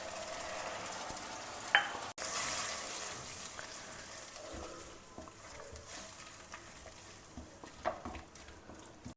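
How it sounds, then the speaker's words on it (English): Red chili paste sizzles in a pan while it is stirred for tava pulao, a soft, continuous frying hiss with occasional scrapes, fairly faint and with no voices. "Now add in this red chili paste which we made."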